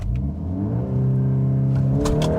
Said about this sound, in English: We'll brake torque it and we'll floor it here.